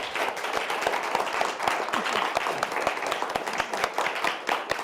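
An audience at a Creative Brain Week session breaks into a steady round of applause, dense overlapping claps sustained at even loudness throughout, with no voices on top.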